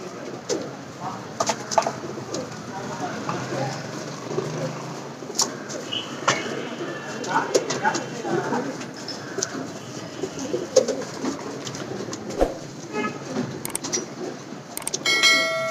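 Loft pigeons cooing in a loft, soft repeated low coos and rustling near the listener, with scattered clicks and faint bell-like tings, while someone talks throughout.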